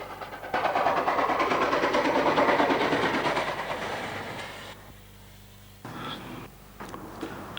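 A Class 25NC steam locomotive, number 3454, fitted with a Lemper exhaust, runs along the line, a loud rolling rumble with a clattering wheel rhythm that fades after a few seconds, followed by quieter scattered knocks.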